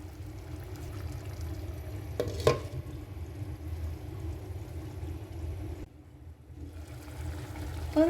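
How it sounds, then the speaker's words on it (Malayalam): Kerala-style breadfruit curry boils in a covered pot with a soft, steady bubbling and sizzle, quiet and close, broken by a brief clatter and a short pause. "അത് നല്ലോണം തിളച്ച് വന്നിട്ടുണ്ട്."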